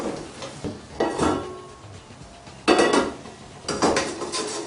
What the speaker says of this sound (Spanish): Esa es la sartén que tenemos que poner arriba para dar la vuelta.